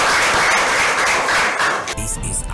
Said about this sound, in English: Can you clap for Doom Doom?